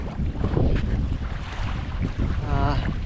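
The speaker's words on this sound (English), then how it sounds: "Lovely paddle back going against this wind." Strong wind buffets the microphone in continuous gusty rumbles while kayaking on Lake Durras, Australia, with faint water sounds beneath and no voices.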